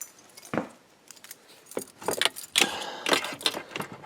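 Car keys for a 1986 Chevrolet C4 Corvette jangle close by in scattered bursts of metallic clinking and rattling, with quiet gaps between the handlings.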